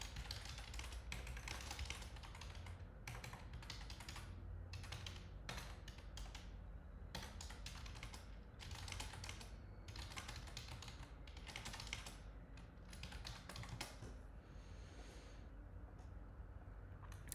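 Steady, faint computer keyboard typing, with rapid key taps in continuous bursts and short pauses, recorded close but quiet, as learning outcomes are entered on a computer.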